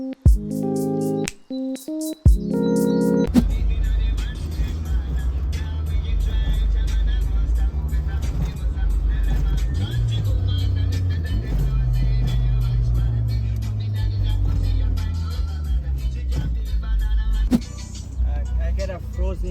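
A modified 200+ hp Acura Integra pulls onto the street after a few clicks and thumps, its engine droning loudly and rising and falling in pitch through the gears, with voices talking over it.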